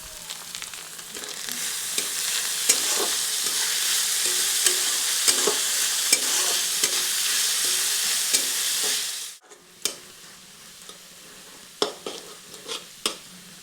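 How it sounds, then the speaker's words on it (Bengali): Chopped onion and carrot fry in a pan, producing a loud continuous sizzle with stirring scrapes that suddenly drops away, followed by quieter clinks and taps of utensils. "এরপর গাজরটিকেও কিছুক্ষণ ভেজে নিচ্ছি।"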